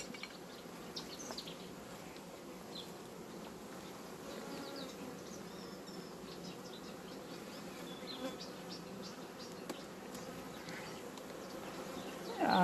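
Honeybees in a hive colony during queen rearing make a steady, dense buzzing and droning close by, with individual bees whizzing past over the low hum and no speech.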